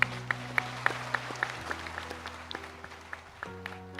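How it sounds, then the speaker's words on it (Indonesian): Applause ripples through a gathering of roughly 4,500 participants at a university religious study event, with scattered distinct claps over a steady low hum, moderately faint and brief. "Tepuk tangan untuk kita semuanya."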